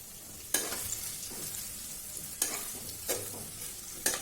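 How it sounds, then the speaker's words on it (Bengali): Cut carrots and beans being stirred and fried together in a pan with whole spices, a steady sizzle broken by four sharp scraping stirs. "গাজর আর বিনসটাকে একসাথে দিলাম, কারণ হচ্ছে যে এই দুটো ভাজতে একটু সময় নেয় বেশি"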